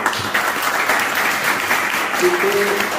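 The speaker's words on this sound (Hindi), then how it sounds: "मैं चाहूँगा एक दफ़ा इन दोनों के लिए आप तालियां बजाइए।" Audience applause at a mushaira poetry gathering in High Wycombe, a steady wash of clapping that holds evenly for about three seconds, with a brief voice or tone breaking through near the end.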